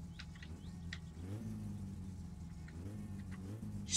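A car engine in the My Summer Car video game, slow to respond to the throttle, revs up and settles twice in a low, quiet drone, with faint bird chirps in the background.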